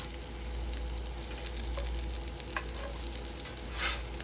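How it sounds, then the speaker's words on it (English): Homemade hash brown cheesy cakes frying in a pan give a steady, close sizzle that holds evenly throughout, with a few faint scrapes and light clicks on top and no voices. "we'll fry them again 3 minutes or so till desired brownness and crispiness"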